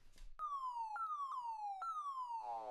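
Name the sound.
super space drum electronic percussion pew sound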